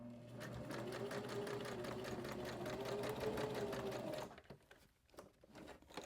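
A sewing machine runs a continuous zig-zag stitch in red thread on yellow fabric, a steady close mechanical whir for about four seconds before stopping, followed by a few quiet handling clicks.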